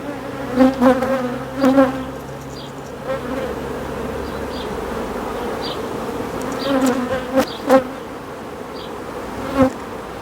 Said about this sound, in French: Alors, très belles abeilles.